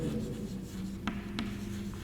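A sentence is written by hand during an electricity lesson: a few brief, scratchy strokes rise over a steady low room hum.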